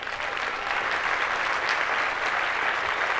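An audience at a national service platform demonstration gives a brief, dense round of applause, with steady clapping from many hands throughout.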